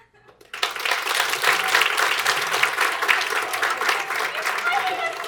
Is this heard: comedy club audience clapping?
yes